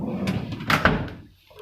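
A storage drawer on an S6100 anesthesia machine slides and knocks shut, giving a couple of brief, close wooden-sounding thumps against a low room hum.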